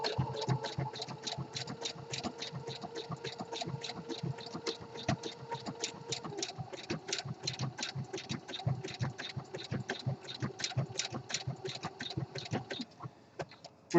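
Home sewing machine stitching an elastic waistband into boxer briefs, a rapid even needle chatter with a steady motor whir running continuously before easing off near the end.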